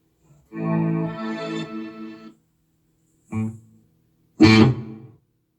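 Clean electric guitar notes from a heavily modded Ibanez Talman TM330P ring out in three separate phrases, a sustained strum followed by two shorter plucked bursts, close and clear.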